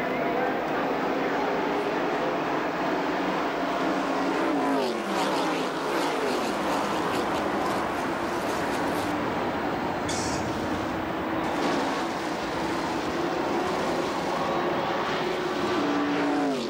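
Race cars thunder off at the start of the 32nd Daytona 500 before a crowd of 94,000, engines roaring loudly and continuously as the pack sweeps past with rising and falling pitch, with a commentator talking over them at times.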